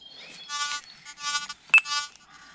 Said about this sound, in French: les petits bips que vous entendez, c'est des interférences